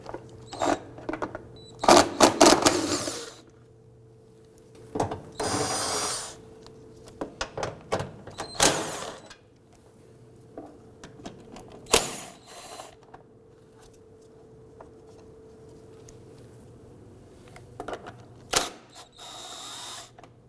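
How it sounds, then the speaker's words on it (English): A 12 mm socket ratchet with an extension loosening bolts under a 2005-2009 Subaru Legacy 2.5L H4 while fuel tank straps are replaced, heard as bursts of rapid clicking ratcheting separated by pauses, close and fairly loud. "Go ahead and use your 12 millimeter socket. We're going to use an extension to get up here."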